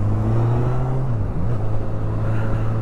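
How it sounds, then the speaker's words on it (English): A 2021 Honda CB1000R Black Edition motorcycle engine holds a steady mid-revs drone, dips briefly and then climbs back, heard close and continuous with no talking. "Too much revs again."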